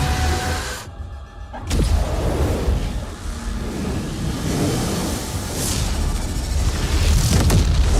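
The Doomslayer's launch in the Doom video game lands as a loud, deep boom after a brief near-silent gap, then rolls on in a long rumbling roar with whooshing swells.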